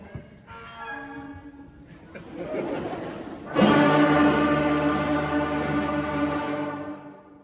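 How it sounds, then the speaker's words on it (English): A seventh-grade school band of clarinets and other winds plays sustained chords together at a first concert, growing louder and fuller partway through, then holding a steady blended tone. "With just a little practice, the band sounded like this."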